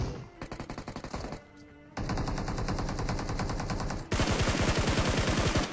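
Rapid automatic gunfire from the battle royale video game PUBG, several loud bursts of machine-gun fire with a brief lull, then a dense, sustained volley at the end; no talk.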